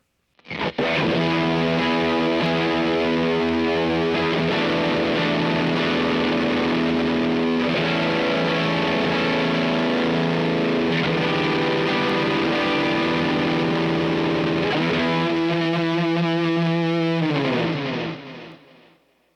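Thick, fuzzy electric guitar chords through a fuzz pedal ring out loud and sustained for most of the stretch, with dense saturated harmonics, then decay at the end.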